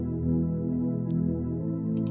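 A smooth synth pad built as a Reason Combinator patch with strings holds sustained, layered chord tones at a steady level, alone with no talk.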